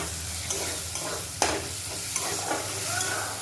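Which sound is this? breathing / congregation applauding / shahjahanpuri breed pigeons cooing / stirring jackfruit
stirring jackfruit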